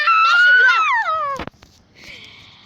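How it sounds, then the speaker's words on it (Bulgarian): A loud, high-pitched human scream during a Minecraft BedWars game, wavering and falling for about a second and a half before a sharp clatter, then a quieter electronic tone. "този вик означава, че спираме видеото"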